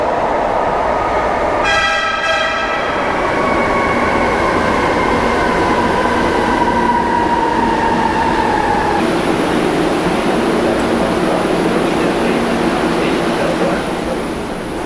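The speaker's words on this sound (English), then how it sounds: "It's more like a tram than anything" Interior of a long, air-conditioned rail tram in Manila, with a steady rumbling ride noise throughout and a horn-like tonal chime early, then a long whining tone sliding downward as it moves.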